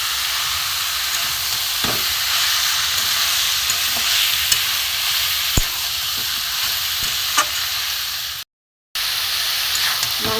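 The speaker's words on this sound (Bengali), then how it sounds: "গ্যাসটা কম করে কষাতে হবে, বেড়ে যাবে।" Chicken pieces with spices stir-fried over a low gas flame, a steady close sizzle with occasional scraping clicks of the spatula against the pan, no one speaking.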